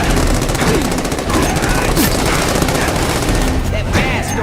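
Dense, rapid gunfire from The Amazing Spider-Man 2 video game pounds loudly and without pause from start to finish.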